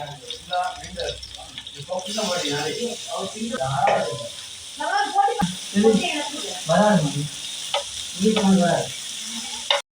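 Chicken sausages fry in a little oil with a steady hissing sizzle that begins a couple of seconds in and continues under a person talking nearby.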